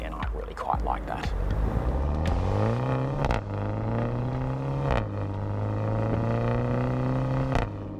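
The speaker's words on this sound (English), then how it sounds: "it's a 2-litre twin-scroll turbo. It's an excellent engine, and in this car it's all very noisy and crackly" A BMW X2 M35i's 2-litre twin-scroll turbo four-cylinder revs up hard through several gear changes, a rising engine drone with crackles and pops between shifts, heard from inside the car with some wind noise.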